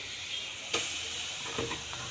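A dosa fries on a hot pan, the batter flavoured with mushroom, pepper, cumin, garlic and turmeric. It gives a close, steady hissing sizzle with a couple of sharper bursts partway through.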